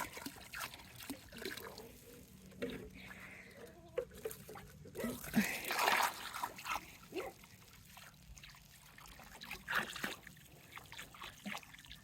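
Water trickles and splashes into a goat trough in uneven bursts, with a louder pour in the middle, amid faint outdoor rustling on a farm.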